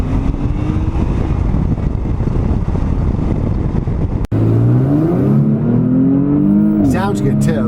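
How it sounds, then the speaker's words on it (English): Porsche Cayenne SUV engine and exhaust burble heard from outside, with wind noise first, then a cut to a near, rising and falling engine note and a gear change. "the outside you can really feel a burble. It really sounds like a sports car"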